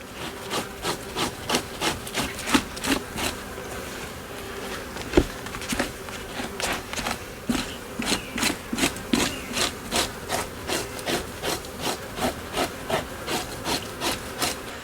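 Deer hide is scraped over a fleshing beam to strip the flesh, making a close, steady run of rhythmic rasping strokes, about two per second, with no talk.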